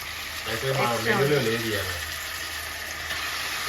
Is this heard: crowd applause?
no